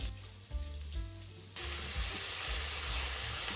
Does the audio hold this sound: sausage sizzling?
yes